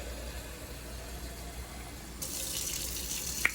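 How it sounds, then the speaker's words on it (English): Warm water runs from a kitchen tap into a measuring cup while making cassava flour garlic tortillas; a steady hiss starts partway through and continues close and fairly loud to the end, with no talk. "I'm just going to get some hot water, some warm."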